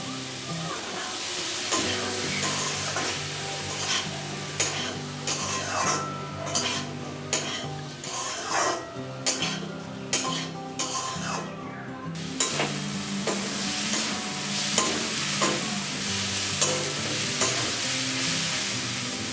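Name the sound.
dal and potato stirred and sautéed with spices in pan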